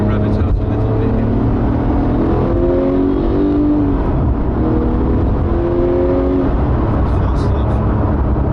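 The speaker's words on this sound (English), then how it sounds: "Maybe rev it out a little bit here." Porsche 911 GT3 with a 4.0 engine revving hard, pitch sweeping up through several rising pulls with a loud, harmonic howl, close and continuous throughout.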